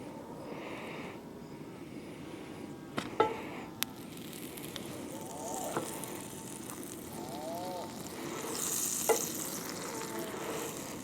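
Grilled cheese sandwiches toasting in butter on a camp stove outdoors, a faint, steady sizzle broken by a few clicks and scrapes, with low background rumble.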